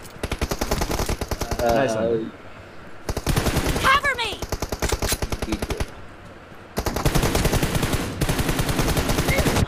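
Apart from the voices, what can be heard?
gunfire in the video game BGMI team deathmatch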